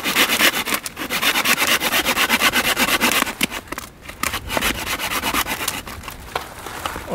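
Pine wood being cut by hand at a winter camp, a dense run of rapid rough rasping strokes close by, steady and loud with a brief pause midway, alone without talk.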